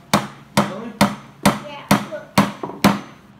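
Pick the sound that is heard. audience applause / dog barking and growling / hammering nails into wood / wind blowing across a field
hammering nails into wood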